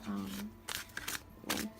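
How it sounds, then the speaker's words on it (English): Tarot cards being shuffled by hand, short crisp riffling bursts repeating at close range, with a voice speaking softly around them. "Just gonna shuffle out the cards"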